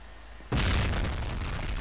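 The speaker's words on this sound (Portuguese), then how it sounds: "Explodiu." Explosion in a Roblox game: after a quiet moment, a sudden loud blast erupts and settles into a sustained, roaring rumble.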